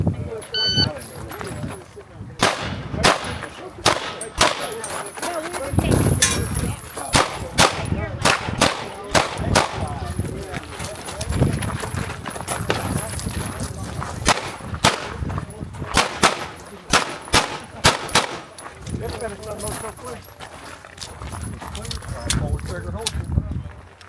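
Gunshots at an IDPA pistol match stage ring out as sharp, loud, close reports in fast strings and irregular bursts, with people talking and moving between the shots.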